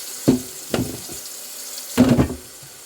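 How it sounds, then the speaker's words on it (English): Water from a kitchen tap splashes over dishes in a sink in short, uneven gushes, three bursts with gaps between, close and fairly loud with no talk. "I'm doing my dishes."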